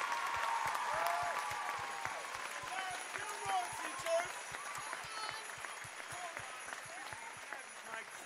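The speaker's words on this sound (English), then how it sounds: "give them the hugest round of applause to our fine arts teachers" Audience applause for fine arts teachers at a school Christmas extravaganza, steady clapping throughout with crowd murmur and voices mixed in over a busy hall background.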